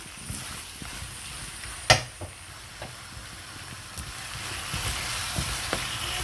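Five tomatoes sautéing in a pan for a tomato and potato curry give a steady close sizzle, broken by a few soft clicks and one sharp clink of a utensil, with no talking.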